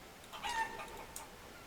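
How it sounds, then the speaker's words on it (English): Soft, scattered clucking of chickens in the video game Forest Village, with a few brief higher chirps, faint and somewhat distant over a steady low background. "Damn, 23 chickens."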